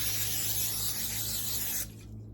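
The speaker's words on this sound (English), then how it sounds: "I'm going to grab my butter flavored spray. I'm going to spray the tops of" Butter-flavored cooking spray hisses in one steady close burst over bagel tops for nearly two seconds, then cuts off into quiet room tone.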